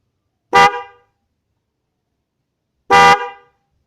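Two loud, identical blasts from a non-waterproof Denso car horn, each a short bright honk of about half a second separated by a long silence, with no talking.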